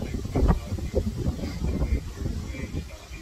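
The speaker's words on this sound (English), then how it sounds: "So this is how windy it is." Strong gusty wind after a hurricane in Louisiana buffets the microphone outdoors, giving a rough, rumbling roar that surges and eases for a few seconds, with possible muffled voices underneath.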